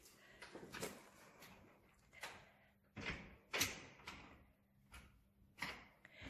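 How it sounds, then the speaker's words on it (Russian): Guests fumble with the door of a new apartment, producing repeated knocks, handle rattles and thuds that come in an irregular series of fairly quiet bursts. "Они еще не умеют дверь открывать"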